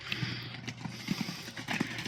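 Several horses moving at a gait, their hooves making irregular clip-clop beats at moderate distance, with faint mechanical rattles mixed in and no talking.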